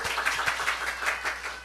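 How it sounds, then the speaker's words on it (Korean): A church congregation applauding together, dense steady clapping from many hands with a few louder claps standing out, fairly close and with no talk over it. "우리 하나님께 박수 올려드려요"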